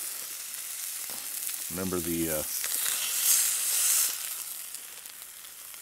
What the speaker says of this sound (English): this is my Bromwell cold handle styled frying pan